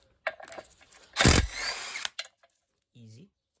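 A power tool, likely an impact gun, briefly spins a 17mm bolt off the front suspension of a 2014 Kia Sportage 2.0 CRDI: a loud close burst of whirring and rattling for about a second, then a short faint mechanical trail.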